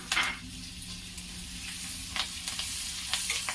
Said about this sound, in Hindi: हींग अच्छी तरह भून जाएगा तो करी पत्ता, हरी मिर्च और सरसों के दाने डाल दूंगी।